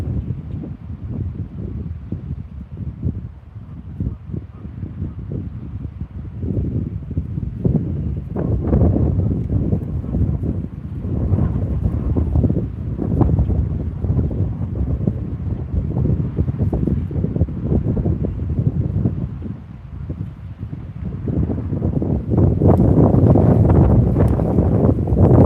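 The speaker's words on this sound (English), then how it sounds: "It dies down here. So windy, so windy." Strong wind blows outdoors at a bass-fishing spot, buffeting the microphone with a loud, continuous low rumble that surges and eases for the whole stretch and grows heavier near the end, with no talk.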